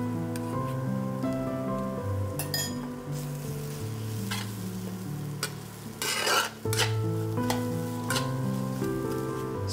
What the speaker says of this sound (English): dry roast the mixture we just blended